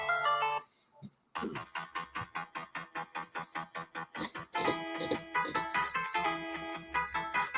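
Retro Nintendo game melodies played as ringtones: bright chiptune-style notes in a quick, steady rhythm, loud and close, with a short pause near the start before the tune resumes and fills out.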